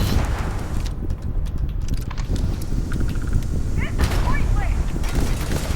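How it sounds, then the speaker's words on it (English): Turret gunfire in the video game Starfield rattles in steady rapid bursts under a continuous loud din of combat noise, with a few sharp metallic zips and impacts mixed in. "Of course they have a turret."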